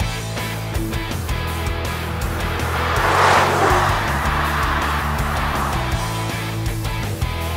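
A 2021 BMW 430i coupe accelerates hard through quick automatic gear shifts, its engine note climbing and dropping in steps with a brief tire-and-road roar in the middle, loud and close, with no talk.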